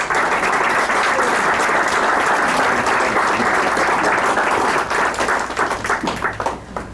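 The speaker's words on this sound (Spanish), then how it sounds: "Les pido un fuerte aplauso para nuestros panelistas." A room full of people claps loudly for the panelists at a book launch, dense sustained applause that thins slightly near the end.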